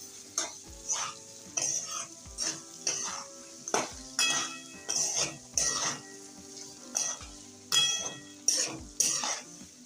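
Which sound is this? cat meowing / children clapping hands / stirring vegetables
stirring vegetables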